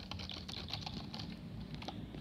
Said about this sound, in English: So I'm gonna type random words